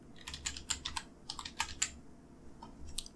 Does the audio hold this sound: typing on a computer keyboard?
yes